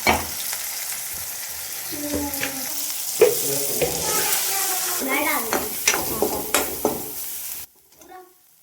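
Paneer frying in a pan at home while being stirred, a steady sizzle under scraping spoon strokes and clinks, ending in a brief quieter stretch with a few faint knocks.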